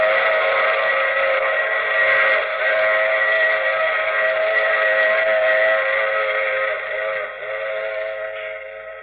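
A train whistle in an old radio drama holds one long, loud steam-whistle tone for several seconds, steady and close, then slowly fades at the end with no voices over it.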